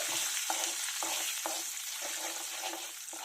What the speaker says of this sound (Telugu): ఇప్పుడు ఐదు ఎండుమిరపకాయలు ఇలా చిరిగి వేసుకుంటున్నాను